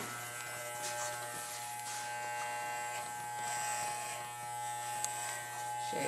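Electric clippers shave the front of a field setter dog's coat during grooming, giving a steady, close, continuous buzz throughout with no break.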